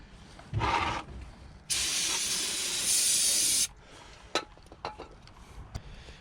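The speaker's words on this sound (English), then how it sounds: "throw some brake cleaner on the rotor, clean off any grease" Brake cleaner sprays in two hissing bursts onto the rear brake rotor of a 2007 Honda Accord, a short blast followed by a longer steady one, with a few light clicks and taps afterward.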